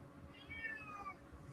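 A cat meows in a single drawn-out, rising and falling call, fairly faint over a steady low background murmur in an indoor room.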